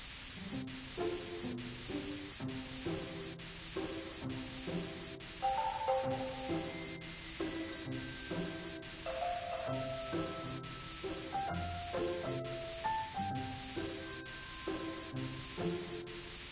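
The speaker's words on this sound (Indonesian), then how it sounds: "semprotkan cat ke rumah anjing dengan warna yang cantik." Spray paint hisses onto a dog house in a Baby Bus children's video game, a steady hiss running throughout beneath bright, bouncy background music.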